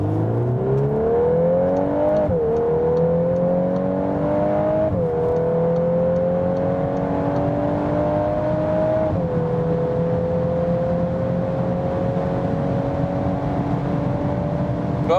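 A 320 hp all-wheel-drive 2021 VW Golf R accelerates hard on the German Autobahn, its loud engine drone climbing in pitch through several gear shifts, marked by brief dips, and then settling into a high steady whine at speed.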